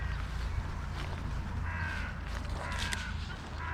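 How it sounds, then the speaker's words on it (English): Several crows caw at a backyard bird feeding station, with a few rough calls over a low steady background hum. "We got our crows here."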